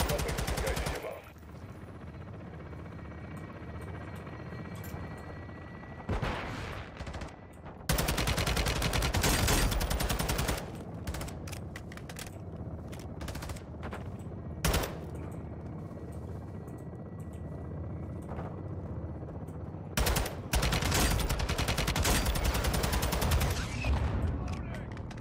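Air support gunfire rakes a target in the Modern Warfare 2 (2022) campaign, with loud bursts of rapid fusillade over a steady helicopter rotor drone, the heaviest volleys arriving in several separate loud stretches across the clip.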